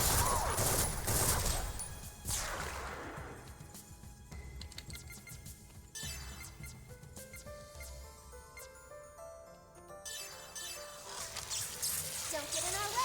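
Gunfire in a Xenosaga Episode III video game battle: rapid bursts of shots and crackling impacts, with electronic effects and ringing tones layered over game music, and characters talking during the fight.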